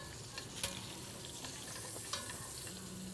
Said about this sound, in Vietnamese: Ra mỡ này ta rán cho nó kiệt